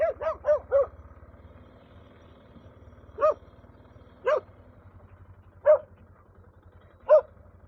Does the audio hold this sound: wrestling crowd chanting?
no